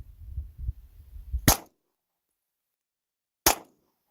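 A Kimber pistol fires two sharp, loud shots outdoors about two seconds apart, the first following some low rumbling handling noise, with silence between them.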